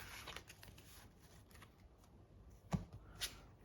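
A Yu-Gi-Oh! card deck riffled and shuffled at close range, a soft rapid flutter with a couple of sharper snaps near the end, no voices.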